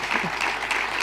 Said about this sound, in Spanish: y un aplauso, sí